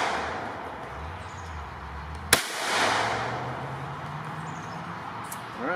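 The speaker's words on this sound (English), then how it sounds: "Okay, first shot with the 22 Magnum." A single sharp .22 Magnum (22 WMR) gunshot cracks loudly into a target dressed in wet jeans, a sudden report followed by a brief rushing decay over steady background hiss.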